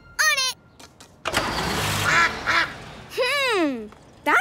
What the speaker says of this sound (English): So that's what's making the quacking sound. A family of ducks.